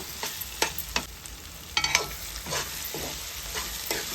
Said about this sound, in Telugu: పనస గింజలు కూడా కట్ చేసుకుని వేసుకోవాలి ఇవి కూడా రెండు నిమిషాలు ఈ ఆయిల్లో మగ్గాలి